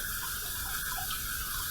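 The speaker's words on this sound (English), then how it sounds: "Gonna fill it up with some fresh water." Cold tap water runs steadily into a bathroom sink during a shave, a continuous even rush with no talking.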